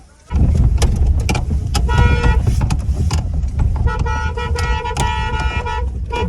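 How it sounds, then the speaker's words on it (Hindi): A car climbs a slope under hard throttle, engine roaring loudly and continuously with rattles and knocks, and several short horn-like tonal bursts over the strain. "गाड़ी यहाँ से चढ़ गई, मैंने फोर्सफुली चढ़ाया इसको"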